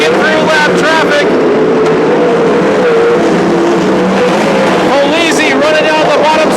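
Sprint cars in a 360 sprint car main event race around Petaluma Speedway, a loud continuous engine roar with shifting pitch as the pack runs nose to tail, under an announcer's commentary.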